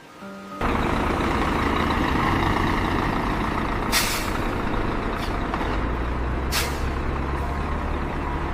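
A heavy truck hauling hot asphalt to a paving site rumbles steadily at close range, broken by two sharp, loud air-brake hisses a few seconds apart.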